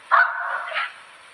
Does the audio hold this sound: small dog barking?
yes